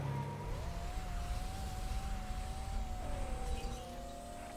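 A car accelerates in the driving video game Drive World, a steady engine drone with a rising tone that shifts up in pitch as it gathers speed, loud and continuous throughout with no talk.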